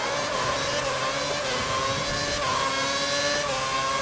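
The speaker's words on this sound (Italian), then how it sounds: "rombo di motori e andiamo" Formula One car engines roar at a race start at the Turkish Grand Prix in Istanbul in a video game, a steady high-pitched whine from a dense field of cars that holds loud throughout with no talk.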